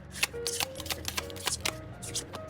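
Tarot cards are shuffled close up in quick repeated riffles and slaps, a brisk papery rhythm of short bursts across a couple of seconds, alone without speech.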